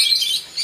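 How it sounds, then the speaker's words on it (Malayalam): Small birds chirp in a little park, making a brief, bright, high twittering that carries steadily with no voices. "കണ്ട കിളികളുടെ സൗണ്ട്."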